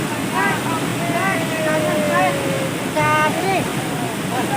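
Fast water rushes at a waterfall where people are fishing, a loud, constant roar that fills the whole clip, with someone talking over it.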